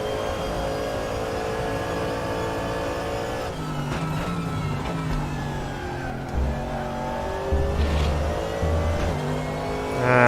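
Porsche race car engine in RaceRoom Racing Experience, a continuous loud drone that revs up and down through gear changes, with a few rising surges and brief tire noise toward the end.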